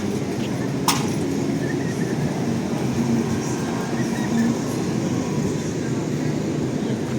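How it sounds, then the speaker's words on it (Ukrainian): Two trams rumble past at night in Lviv's Market Square with a continuous low rolling noise and faint metallic squeals, one sharp clank early on, no voices. "Два трамвайчика."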